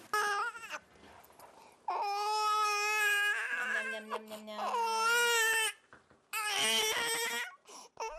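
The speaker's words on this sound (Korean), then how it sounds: "아기의 울음소리에" Infant crying and sobbing, loud wails rising and breaking in repeated bursts with short gasping pauses between them, close and continuous.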